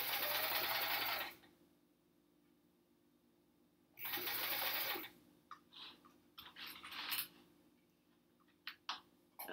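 Sewing machine chain piecing hourglass quilt units, with two loud sustained bursts of stitching about three seconds apart, followed by scattered clicks and handling noises of fabric and clips at close range.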